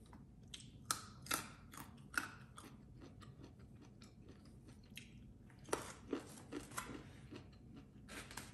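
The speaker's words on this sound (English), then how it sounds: "I love the crunch of the carrots." Fresh carrots chewed close to the mouth, irregular crunchy bites and snaps scattered across several seconds, with a quiet background and no speech.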